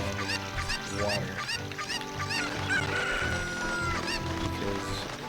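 Cucco chickens in Ocarina of Time, a dense flock of loud, overlapping clucks and squawks running continuously throughout, with a person talking underneath.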